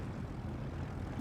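A faint, steady propeller-plane engine drone, distant and low, lasting only a moment, from a WWII aircraft taking off in the game War Thunder.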